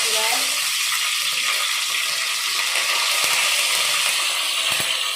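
Spices roast in a pan while being stirred, a loud, steady close sizzle with occasional faint scrapes running throughout.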